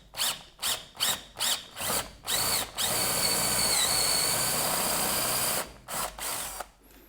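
A power drill bores out a broken heater hose quick connect coupler on an OBS GM truck with a 6.5L turbo diesel. It starts in a string of short, loud bursts, then runs in one long steady whine before stopping and giving a few more brief pulses.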